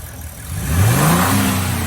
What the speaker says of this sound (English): you can hear the revving it up a little bit